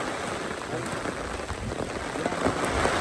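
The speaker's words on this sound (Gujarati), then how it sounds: "વરસાદ આવી ગયો છે" Rain falls steadily and fairly close at Jatashankar Mahadev on Girnar, Junagadh, a dense, even patter on surfaces with no break over the short stretch.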